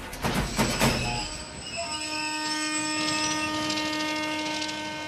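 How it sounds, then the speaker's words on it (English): Samjhuta Express, the cross-border train between India and Pakistan, on a single rail track, with a rumble and clatter at the start, then sustained squealing tonal wheel or horn sounds holding steady as it passes nearby. "A single rail track which carries this cross-border train between India and Pakistan."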